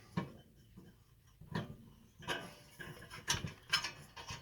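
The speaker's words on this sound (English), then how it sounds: "Generator takes a 9/16 wrench." Metal wrench working a fastener on a generator of a Kamplite model IL-1 inverted lantern, giving several separate close clicks and ratcheting scrapes spaced about a second apart, quiet with no talk.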